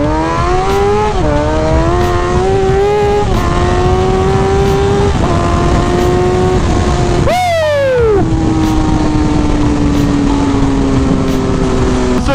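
A restored 2003 Kawasaki ZX6R accelerates hard onto a highway, its engine climbing in pitch through several gears with brief dips at each shift, then a rapid high-rev surge before settling into a steady cruising drone, loud and close.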